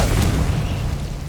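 Heavy, close explosion from the Confringo blasting spell in Hogwarts Legacy: a sudden deep blast with a thick low rumble that lingers through its short tail, no voices over it.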